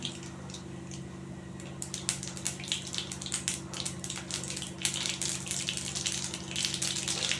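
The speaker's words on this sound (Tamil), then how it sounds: "முதல்ல கடுகு போட்டுடலாம்" Mustard seeds hitting hot oil in a pan for a tamarind rice tempering, giving a run of sharp, uneven crackles and pops over a steady low hum, close and moderately loud, with no talking.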